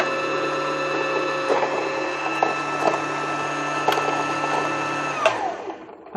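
A sewing machine whirs steadily while winding thread onto a bobbin, a close, even mechanical hum with faint ticking, then winds down and stops near the end.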